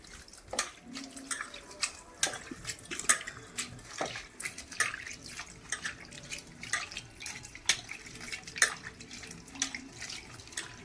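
Small tengra fish being rinsed in salted water, with continuous splashing, sloshing and dripping close by as hands swish the fish around in a container.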